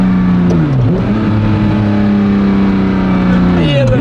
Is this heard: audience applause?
no